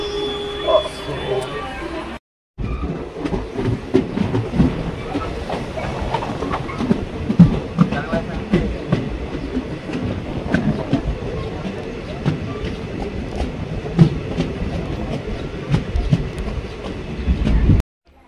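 A crowded, moving passenger train heard from inside, with a continuous rumble and rhythmic clickety-clack of wheels on the rails, briefly cutting out near the start.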